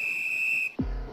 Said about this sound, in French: On siffle la mi-temps.